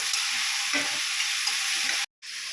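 Meat dropped into frying onions and spices for a curry, a dense, loud, steady sizzle that cuts out briefly near the end and then resumes, heard close with no speech.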